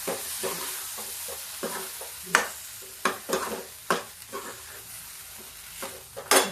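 Moong dal with bottle gourd is stirred in a cooking pot, heard as repeated scraping strokes of a ladle against the metal, each a short rasp in an irregular rhythm over a faint simmer.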